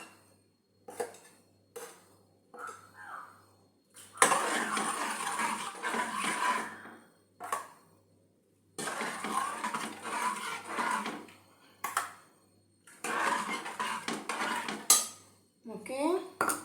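A pot of curry has ground coconut paste added and is stirred, with repeated scraping and clanking of a metal utensil against the pot in several bursts separated by short pauses, close and fairly loud.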